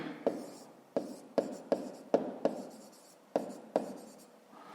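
Pen writing out a fifth-grade math solution on paper, a series of about eight sharp tap-like strokes with scratchy rubbing between them, close and clear with no talking.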